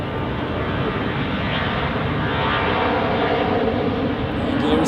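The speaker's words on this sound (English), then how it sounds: "The Embraer to Prague." An Embraer jet at Zurich Airport, bound for Prague: a steady, broad engine roar that holds throughout and builds slightly toward the end.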